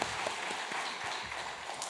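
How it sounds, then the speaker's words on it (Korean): A church congregation gives quiet, steady applause for a family, moderately distant, with faint voices underneath. "우리 김웅진 집사님, 소희 권사님 가정 축복하며 박수 부탁합니다"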